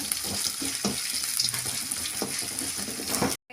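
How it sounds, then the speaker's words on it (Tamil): Ginger garlic paste sizzles steadily in a hot pan, with a few sharp spatula scrapes and stirs breaking through the constant close frying hiss; no one speaks. "இஞ்சி பூண்டு விழுது சேர்த்துக்கோங்க. நல்லா வதக்கி விட்டுக்கலாம்."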